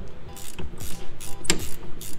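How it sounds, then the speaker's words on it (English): A ratchet wrench turns on a brake bracket of a Datsun 510 wagon, giving rapid, loud, close clicking pawl strokes in quick bursts with metallic clacks. "Time for the assault ratchet."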